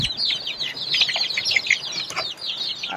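Young local chicks on a small chicken farm peep and cluck in a busy, overlapping chorus of high chirps, close and continuous throughout.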